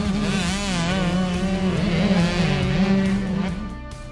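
Junior motocross riders aged 7 to 13 race orange KTM 65cc bikes, several small two-stroke engines screaming and buzzing together with overlapping rising and falling revs, loud and close before fading slightly at the end.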